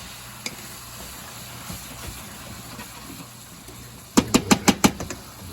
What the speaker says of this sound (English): our bacon's just about there. It's getting nice and crisp